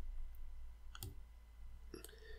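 A computer mouse clicks twice while someone works in the MyPaint painting program. The two crisp, short clicks are about a second apart and sit over a low steady hum, with no talking.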